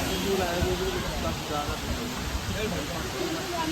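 The Neer Garh waterfall in a Rishikesh forest gives a steady, dense rush of falling water that fills the scene continuously and loudly, with no clear pauses.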